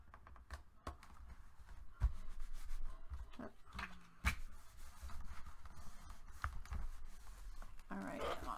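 A paper page of a handmade mini album is burnished firmly by hand, producing soft, uneven rubbing and scraping strokes with a few sharper taps, close and quiet.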